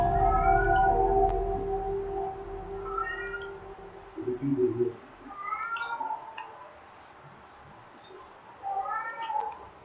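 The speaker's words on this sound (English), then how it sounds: "It was like meowing to vomit." A cat meowing repeatedly in short, rising and falling cries, close and fairly loud, with a low hum at the start and no talking.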